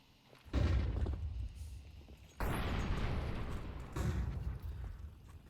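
Grenades going off in a Counter-Strike match on the Anubis map, two or three heavy booming blasts in quick succession, each followed by a rumbling decay, fairly close and loud with no talk over them.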